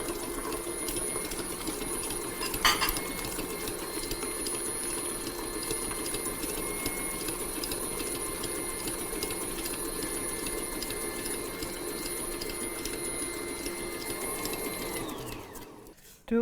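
A Hobart stand mixer running a non-dough-hook attachment mixing batter with eggs, giving a steady mechanical whir and hum with a brief clatter near the start, then winding down abruptly at the end.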